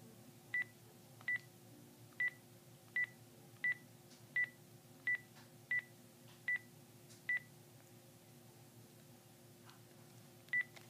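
Telephone keypad dialing tones for a call to a mother: eleven short, clear beeps in a fairly even rhythm, quiet and alone against a faint background hum.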